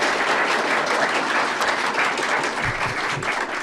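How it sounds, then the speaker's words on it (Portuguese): A crowd at a political commission gathering gives sustained, dense applause that stays loud and even from start to finish, with no speech over it. "uma salva de palmas."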